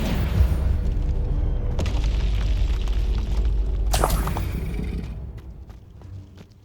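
A Confringo spell explodes during combat in Hogwarts Legacy on Xbox Series X, a deep booming blast with a sharp burst midway, then rumbling that fades away.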